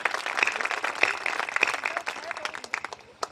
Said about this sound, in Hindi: एक बार तालियां बजा के इजाजत दीजिएगा।